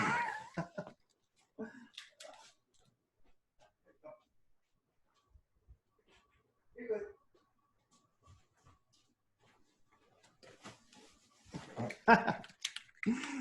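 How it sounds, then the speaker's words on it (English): A dog at a back door gives a few scattered barks and yips, some close and some muffled, with quiet gaps between and a louder cluster near the end, alongside faint room noise. "my dog's at the back door."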